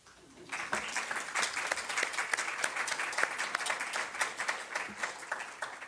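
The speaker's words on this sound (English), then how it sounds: "I think Linda would have wanted us to applaud." Audience at a memorial celebration applauding, with the clapping starting quickly and then holding as a steady, moderately distant patter of many hands without any voices.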